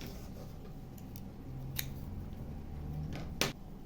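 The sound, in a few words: scissors cutting paper yarn while crocheting a bag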